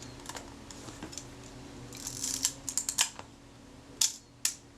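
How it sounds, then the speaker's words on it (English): A Kodak Retinette IIB camera's shutter is fired on the B setting, giving sharp, close mechanical clicks: a scattered cluster of small ticks followed by two distinct louder snaps near the end, against a quiet room. "Does the shutter work correctly on B?"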